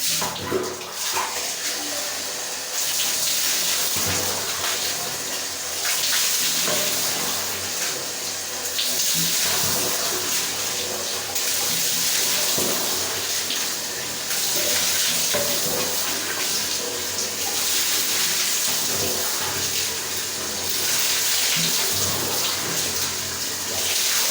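Water runs continuously from a tap during a hair-washing demonstration for a hair product, a loud close steady splash that shifts as the hair is rinsed, with little talk.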